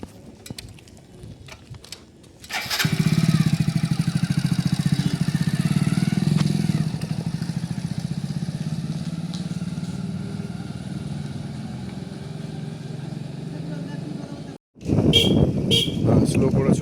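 A training student's motorcycle starts up and rides off, a steady loud engine drone lasting about twelve seconds before a brief cut, with voices talking over it.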